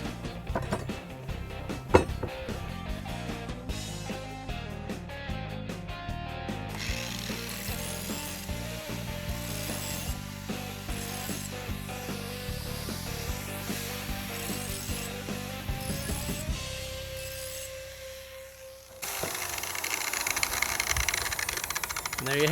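A grinder takes the rolled burr off the edge of a sharpened riding-mower blade: a close, steady mechanical whine with ratcheting tones, turning to a harsher broadband grinding rasp at the end.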